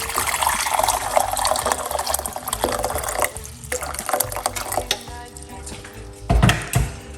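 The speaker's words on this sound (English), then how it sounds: "1 cup of hot water into the pot" Hot water is poured into a pot to make tea, a close continuous splashing and gurgling pour with a few louder clanks near the end.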